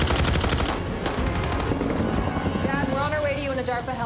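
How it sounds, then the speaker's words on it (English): Rapid bursts of gunfire from a sound effect crackle over a helicopter's thumping rotor, fairly loud and mixed under ongoing talk. "Did you hear that gunfire?"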